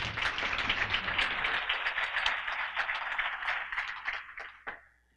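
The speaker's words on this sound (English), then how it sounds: "Yes, you can applaud" Audience applause at a city's State of the City address, a steady broadband wash of many hands clapping that holds for several seconds, then thins into scattered claps and fades out.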